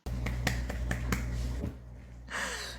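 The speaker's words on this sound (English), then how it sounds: "I'm like clapping." Several sharp hand claps land in a quick uneven burst near the mic, then a pause and a brief rustle follow on a livestream.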